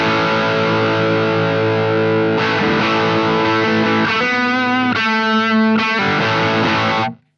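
Heavily distorted electric guitar through a Marshall Studio JCM 800 with preamp gain maxed, loud sustained chords and a few bent single notes ringing, playing a rock riff before cutting off abruptly.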